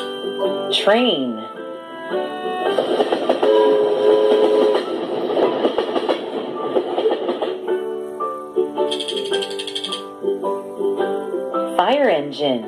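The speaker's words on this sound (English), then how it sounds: "Train" Train sounds rumble along with tonal, horn-like notes, while a voice speaks briefly near the start and end.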